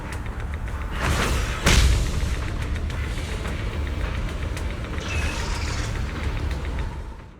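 An explosion booms in the game Zenless Zone Zero as an array base is destroyed, a single deep blast followed by a long rumbling roar that slowly fades.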